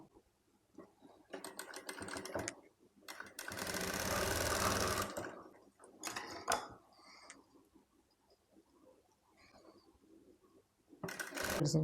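A sewing machine stitches baby outfit fabric in several short bursts followed by one longer, louder run, with quiet pauses and light handling sounds between them, then another burst at the end.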